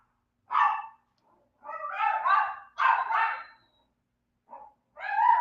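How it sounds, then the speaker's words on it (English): A dog barks in several separate bursts with short pauses between them, loud and close, with one small yip near the end, heard alone without talk. "So obviously I have a dog."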